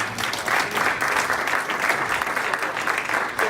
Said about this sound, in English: Can we have a round of applause for Rick?